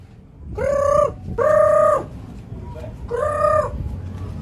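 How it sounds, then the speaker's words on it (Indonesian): A rooster crows loudly nearby in three long, drawn-out calls separated by short pauses, with faint background noise. "Mana ayam gua si Brumbun ya"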